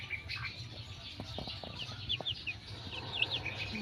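Young chicks on a farm cluck and cheep in quick high chirps, with short pecking taps at rice treats and a faint flutter of wings, all fairly close with no talk.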